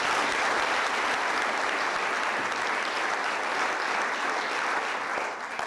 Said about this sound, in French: Cet après-midi, vous avez eu le plaisir d'applaudir Benjamin.